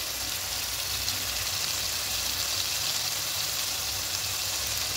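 Spice paste mixed with water sizzles steadily in a hot pan for a pomfret yogurt curry, a loud, continuous hiss with no break and no voices.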